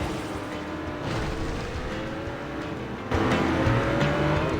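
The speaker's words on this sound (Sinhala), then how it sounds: "වාහන sound එක ගොඩාක්." Revving car engine in a racing video game, a steady droning motor with rising whine, holding at a constant level and stepping up louder about two-thirds through, with no talking.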